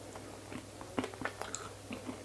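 Someone bites into a soft, slightly chewy homemade vegan shortbread cookie made without butter, refined sugar or gluten, and keeps chewing it, with a few soft bites and muffled mouth sounds close up and no talk.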